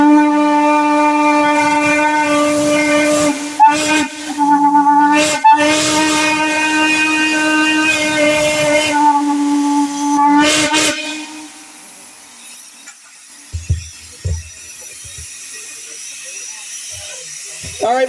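Railroad steam whistle at a whistle-blow event in Ravenna, Kentucky, sounding a loud, sustained chord in several long blasts with brief breaks, then falling quiet as voices talk in the background.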